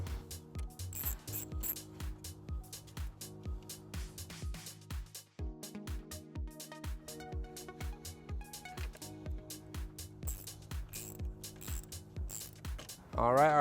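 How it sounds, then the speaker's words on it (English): A 10mm socket ratchet loosening a post on a 2019 Chevrolet Malibu during trailer wiring harness work, giving steady rapid pawl clicks in repeated bursts close by, with a brief pause midway and a sharper sound at the end. "We're going to go ahead and remove that with a 10mm socket."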